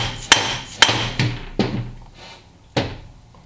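A hammer strikes a pin into a Dana 44 axle carrier, giving five sharp metallic blows at uneven intervals that ring briefly and then fade, loud and close, with no talking.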